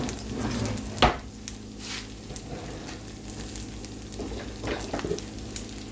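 Eggs and bacon fry in a pan for a breakfast sandwich, a steady close sizzle with a sharp utensil clack near the start and light scraping and shuffling of the pan.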